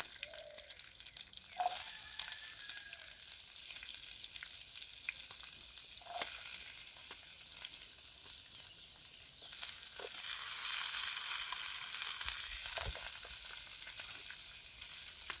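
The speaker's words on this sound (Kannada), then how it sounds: "ಈಗ ನೀಟಾಗಿ ಮಿಕ್ಸ್ ಮಾಡೋಣ. ಆನಿಯನ್ ಸ್ವಲ್ಪ ಫ್ರೈ ಆಗಲಿ." Onions frying in a pan for a moringa egg bhurji, a steady, close sizzle that runs throughout, with a few brief scrapes and knocks as they are stirred.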